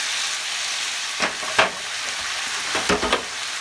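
Chicken and Italian sausage frying in a pan as pesto is stirred in, a continuous sizzle with several sharp scraping stirs of a utensil close by, no talk.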